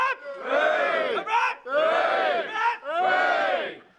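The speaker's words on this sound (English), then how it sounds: "Three cheers for the English!" A crowd of airsoft players at an England versus Scotland event roars three loud, drawn-out hoorays in a row, each answering a shorter lone call, close and forceful.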